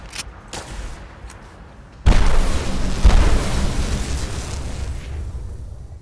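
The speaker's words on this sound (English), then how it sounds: "It's essentially a MIRV effect on plasma grenades." Plasma grenade explosions from a MIRV-style underbarrel launcher in modded Fallout 4: a few faint pops, then a sudden heavy boom that rolls into a long rumbling, crackling tail as it fades, with no voices.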